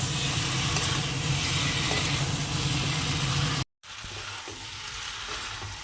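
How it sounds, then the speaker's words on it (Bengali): Mutton pieces sizzle and fry as they are stirred and sautéed in a pan, a loud, continuous crackling hiss with one brief gap of silence. "একদম কষিয়ে আরও কষাবো যত কষানো হবে খাসি মাংস তত খেতে ভালো হবে"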